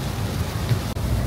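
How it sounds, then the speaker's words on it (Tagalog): Heavy rain pours steadily in the Netherlands, a loud, dense wash of drops with a deep rumbling undertone and one brief dip, with no voices. "Tingnan nyo yung ulan dito sa Netherlands. Grabe kalakas."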